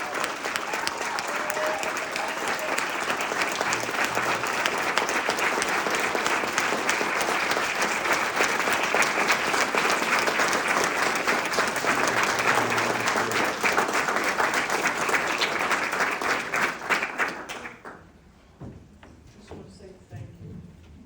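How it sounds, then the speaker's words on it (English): A standing ovation for an activism award honoree fills a hall, with a large crowd clapping loudly and densely for about seventeen seconds, mixed with some voices, before the clapping quickly dies away to quiet shuffling. "if you all can join me in standing if able to give this dynamic woman a round of applause"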